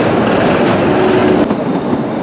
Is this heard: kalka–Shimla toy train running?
yes